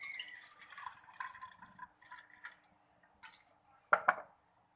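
Water is drained off soaked rice and fenugreek seeds: soft trickling and dripping, then a quiet pause before a couple of sharper splashes and clinks near the end, with no talking.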